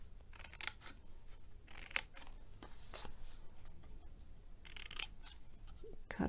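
Scissors snip the corners off a punched paper piece for an Easter egg treat box, several crisp close cuts in uneven bursts against a quiet background.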